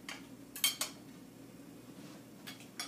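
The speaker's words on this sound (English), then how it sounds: "we can put these bread and butter plates back where you had them" Bread and butter plates are set down on a formal dining table, a few light clinking ceramic taps in two small clusters, close and quiet, with no talking.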